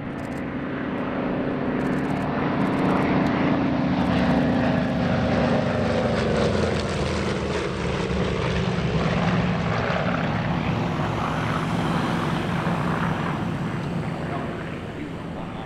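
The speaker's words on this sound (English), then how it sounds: "After 2 passes in a 4-ship formation, the aircraft split up for solo flybys from the Wildcat and Hellcat" Wildcat and Hellcat warbird propeller fighters making solo flybys at an airshow, a loud continuous piston-engine drone that swells and shifts pitch as the aircraft pass, with crowd and ambient noise beneath.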